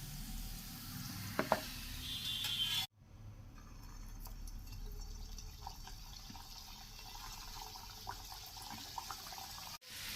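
Matar kachori frying in hot oil makes a steady, close hiss and crackle. The sound breaks off once briefly and then carries on evenly.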